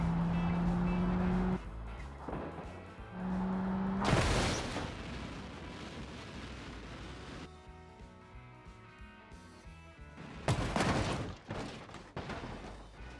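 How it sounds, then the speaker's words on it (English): Simulated car in the BeamNG driving game hitting a long row of speed bumps at extreme speed: a steady engine drone breaks into heavy booming impacts and crunching thuds, loud and close, with several bursts of crash noise. "Near the end, the car has to drive through 30 speed bumps in a row at 600 kilometers per hour."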